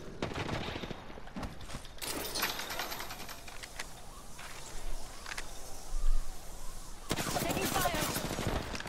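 Gunfire in an Apex Legends match comes in scattered bursts and sharp cracks, with a dense burst near the end, mixed with game ambience and a player talking over it.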